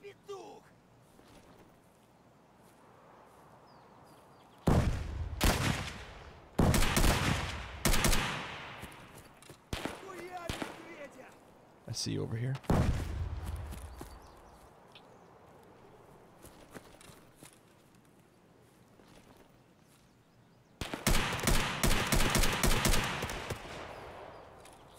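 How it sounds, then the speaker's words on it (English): Loud bursts of automatic gunfire in the video game Escape from Tarkov come in several separate volleys, with quieter gaps of movement between them and a player talking over the action. "And they changed the gun sounds in this."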